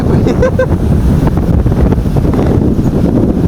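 Strong typhoon wind buffets outdoors in Hong Kong as the storm builds, a loud continuous roar with gusty rumble battering the microphone, and a voice briefly speaks near the start.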